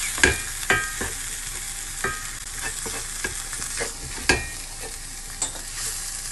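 Flour stirred and browning in a hot pan for a fettuccine Alfredo sauce, giving a steady soft sizzle with scattered scraping clicks of a utensil against the pan, close and alone.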